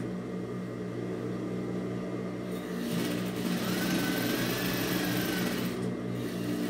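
A sewing machine stitches a microwave towel, a steady mechanical hum with a faster whirring run building in the middle before easing off, close and fairly loud with no talking.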